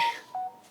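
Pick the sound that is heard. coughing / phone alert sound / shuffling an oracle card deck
phone alert sound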